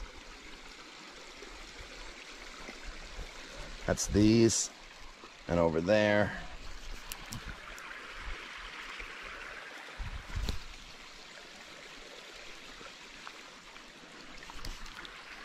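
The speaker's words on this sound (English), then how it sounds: "Coming up on the creek now." A creek running over rocks outdoors near a cabin, a soft continuous trickling rush in the background, steady throughout, with someone speaking briefly over it.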